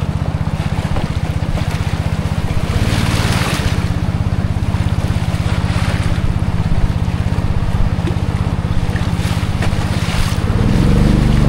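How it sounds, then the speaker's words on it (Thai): Fast-flowing river water rushes loudly and continuously in a mountain stream in Laos, a broad wash close to the microphone with wind buffeting over it. "โอ้น้ำไหลเชี่ยวเลย"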